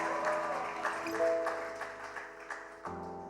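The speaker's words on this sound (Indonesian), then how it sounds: "Tepuk tangan untuk Tuhan Yesus yang baik" A church congregation applauds at a Christmas celebration, steady clapping spread across the room under sustained keyboard or organ tones, with a brief lull before the music swells again near the end.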